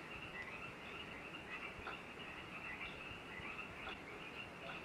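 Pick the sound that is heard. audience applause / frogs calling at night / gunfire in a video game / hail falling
frogs calling at night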